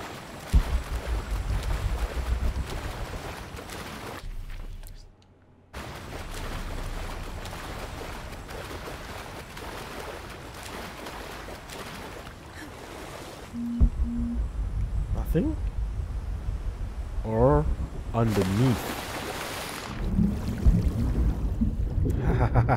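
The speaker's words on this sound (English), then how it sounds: "There's a waterfall." A rushing waterfall in Shadow of the Tomb Raider, a steady broadband roar that carries through the whole stretch, briefly dropping out once, with a voice and some tonal sounds rising over it near the end.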